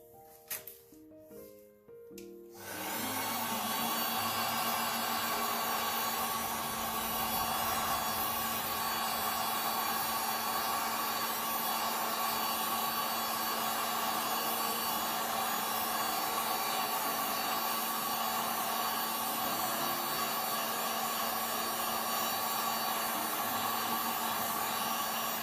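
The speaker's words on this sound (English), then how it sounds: "I think I'm going to use my heat gun and see what I can do here." Steady, loud blowing roar of a heat gun aimed at a resin coaster, switching on after a brief quiet start and then running continuously with an even airflow hiss and a low hum underneath.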